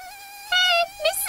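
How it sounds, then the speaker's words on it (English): A bee in an animated telling of a traditional Japanese crab folktale gives a thin, high buzzing drone, steady at first and then swelling louder in a stronger burst, with brief wavering pulses near the end and no talking. "a bee."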